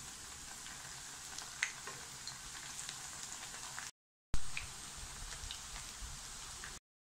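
Kerala-style ullivada onion fritters frying in oil as they are turned; a faint, steady spattering crackle with a few sharper pops, broken by a short silent gap midway.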